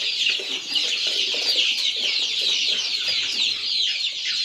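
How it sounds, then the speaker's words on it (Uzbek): Andijan black chicks, a month old and vaccinated, sold at a farm in Kashkadarya, cheep continuously in a dense, high-pitched chorus with steady, overlapping calls close by. "Bular Andijon qora jo'jalari."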